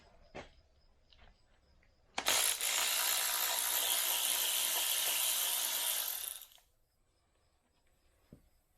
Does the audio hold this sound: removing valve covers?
yes